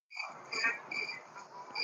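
Crickets chirp in the background outdoors at night, a faint high trilling pulsing in short repeated bursts with no voices over it.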